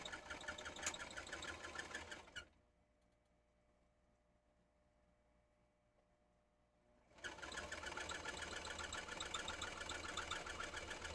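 A sewing machine runs in steady, loud rapid stitching, stops for several seconds of near silence, then starts stitching again at the same pace during a crafting session.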